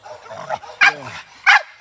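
A bulldog gives two loud, sharp barks about half a second apart, with a soft whining whimper before them.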